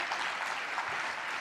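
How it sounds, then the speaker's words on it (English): An audience claps steadily for a moment at the valedictory conversation session of a live conference, a dense, even wash of applause with no pauses. "that deserves a round of applause"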